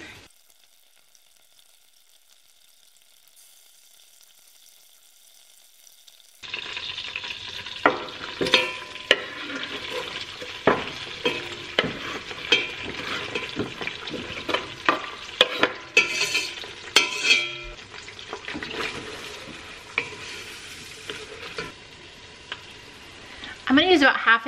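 A whole stick of butter melts in a pot for broccoli cheese soup, starting with a quiet stretch and then a loud, steady sizzle broken up by scraping spoon stirs close by.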